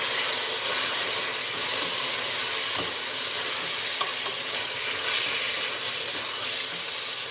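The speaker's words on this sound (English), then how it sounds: "give it a stir." Curry with chicken soup ingredients bubbling and sizzling in a cooking pot as it is stirred, a steady broadband hiss with a few faint scrapes, no talking.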